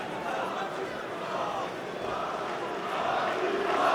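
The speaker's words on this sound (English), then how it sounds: "And the crowd are getting behind him as well." An arena crowd at a PFL Europe fight in Paris roars steadily in support of fighter Patrick Habirora, a continuous wash of cheering that swells toward the end.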